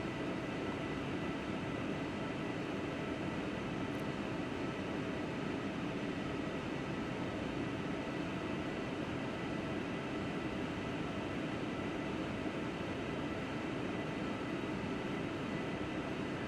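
A Boeing 757-300 taxiing in Flight Simulator X produces a constant, even engine hum and rumble that stays steady throughout, with no speech.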